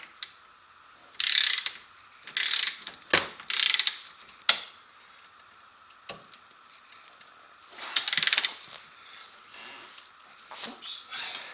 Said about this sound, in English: I'll get the torque wrench out for that.